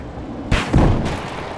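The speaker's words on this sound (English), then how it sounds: "I'm gonna put a Zuni rocket up his ass" A Zuni rocket fires in Battlefield 4 as a sharp, loud launch thump followed by a rushing boom that trails off quickly. There is no talk.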